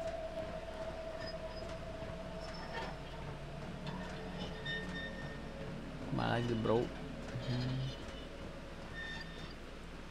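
An amusement train ride rumbles past with a long whistle-like tone and a brief louder clatter midway, under people's voices in an indoor attraction.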